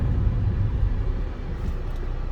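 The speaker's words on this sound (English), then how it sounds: "I'm gonna hit the brakes hard." A 2012 Ford Fusion SEL braking hard, heard from inside as a steady, loud low road and tire rumble that holds without a distinct squeal.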